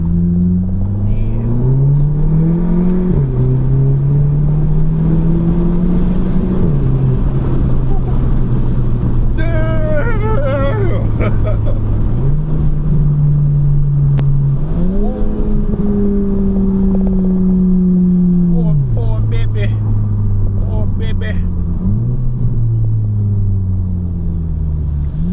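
A VW MK7 GTI with an Injen intake revs up through the gears, with sharp rev-matched blips on each downshift, a loud steady drone of acceleration rising and falling throughout.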